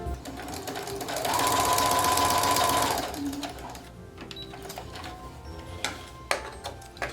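Sewing machine stitching darts on a fabric tote bag, a steady loud whirring run of about two seconds near the start, followed by quieter handling clicks and taps.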